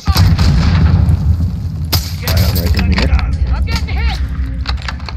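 A detonated charge goes off in the Call of Duty Warzone battle royale, a loud booming blast with rumbling low end and scattered crackling debris, set against ongoing game noise while a player talks over it.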